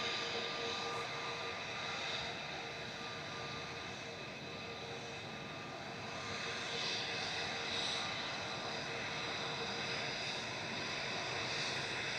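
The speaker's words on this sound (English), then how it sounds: "Shuttle 3 Romeo departing now down to London Heathrow for British Airways Flight 1389" A British Airways Shuttle airliner departs Manchester Airport for London Heathrow, its engines giving a steady, moderately distant jet roar with a faint tonal whine that holds level throughout.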